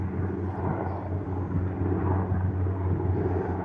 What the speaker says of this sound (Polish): o, patrzcie, jeszcze samoloty lecą